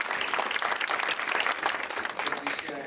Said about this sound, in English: let's give her a big round of applause for her